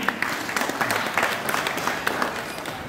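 Audience applause at a foot-pilgrimage (dindi) ceremony from Sainath Nagar to Shirdi: steady, dense clapping from a crowd, fairly close, running throughout with faint voices mixed in.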